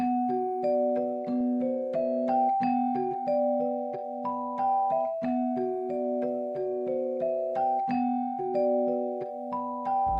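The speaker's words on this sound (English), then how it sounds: "It's basically like the Celeste sound." A celeste-like synth from a VST plays a steady, calm pattern of bright bell-like notes in a looping, mechanical rhythm, clear and even with no voices.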